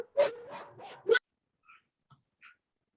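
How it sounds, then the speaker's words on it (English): Dogs bark in a short run of about four loud yelps over the first second, then only faint, scattered sounds trail off into near silence. "It's dogs barking, so it's a little bit dangerous"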